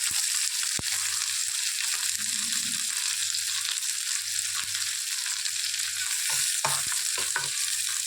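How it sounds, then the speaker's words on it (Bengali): Onions frying beside small bele fish in a hot pan give a steady loud sizzle throughout, broken by a few sharp scrapes and knocks of stirring near the end. "এই মাছগুলো ভাজা হওয়ার সাথে সাথে পাশে আমরা একটু পেঁয়াজ দিয়ে দেবো।"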